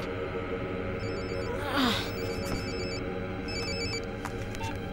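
A telephone rings with repeated electronic trilling bursts over a steady humming background, with a brief whooshing swell partway through.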